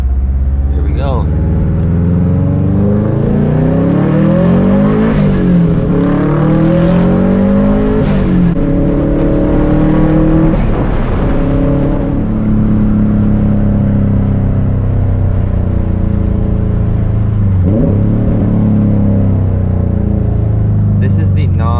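A Subaru WRX STi with a Tomei straight pipe exhaust revs hard while driving through city streets, loud and close from the cabin, rising and falling through gear changes without pause across the whole stretch.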